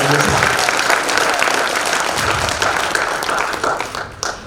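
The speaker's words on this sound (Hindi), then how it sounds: "एक बार आप इन सब की उपस्थिति के लिए जोरदार तालियां बजाइए" Loud, sustained applause from a large audience at a poetry gathering in India, dense clapping filling the room throughout before tapering slightly at the end.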